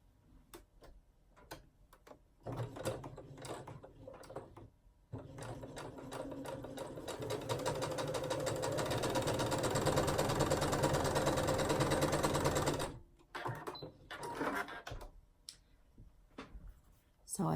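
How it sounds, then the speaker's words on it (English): A sewing machine with a quarter-inch foot stitches fabric in one sustained, steady whir for about eight seconds, with brief softer mechanical bursts and handling before and after. "I'm gonna sew this really quick using my 1/4-inch foot."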